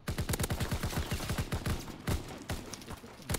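Rapid bursts of automatic gunfire from a Call of Duty match, a dense run of sharp repeated shots with a few brief pauses, loud and close with no talk over it.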